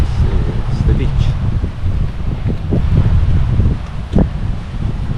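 Strong wind on a beach at São Miguel dos Milagres buffets the microphone with a constant low roar, gusting and rumbling throughout with no pause.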